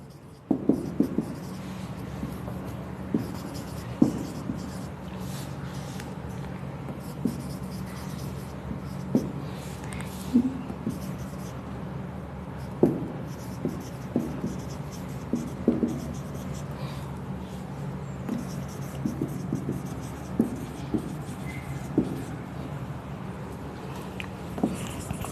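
Pencils and pens scratching in notebooks as students in a classroom write, a steady soft scribbling with scattered light taps and bumps spread over a long stretch.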